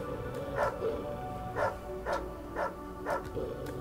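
A dog in the video game Ministry of Broadcast barks repeatedly, five or six quiet, evenly spaced barks roughly half a second apart, heard alone.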